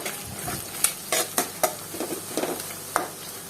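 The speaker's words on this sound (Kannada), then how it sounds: "ಹೈ ಫ್ಲೇಮ್ ಇಟ್ಕೊಂಡು ಚೆನ್ನಾಗಿ ಹುರ್ಕೋಬೇಕು" Eggs fry in a pan over high flame while being stirred, giving a close sizzle with repeated sharp scraping and tapping strokes of a utensil against the pan in an uneven rhythm.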